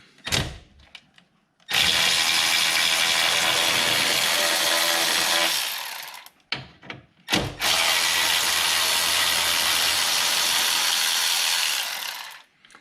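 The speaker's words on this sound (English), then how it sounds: "Now I'm going to remove this 10mm bolt that holds the box in place." A 10mm bolt coming off a module box in a 2016 Nissan Rogue engine bay, with two long, loud bursts of rapid powered ratchet whirring at close range and short clicks and handling noises between them.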